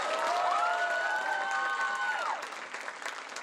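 Audience applause with scattered cheering following a film screening, a broad wash of clapping and crowd noise that swells early and stays steady throughout; a faint tonal whistle-like line runs through the middle before the applause thins slightly toward the end.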